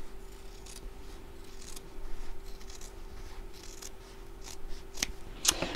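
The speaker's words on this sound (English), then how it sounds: "So I'm cutting now through the outer and the lining together." Scissors snip through outer fabric and lining layered together, a quiet close series of crisp cuts and rustles, with a louder snip near the end.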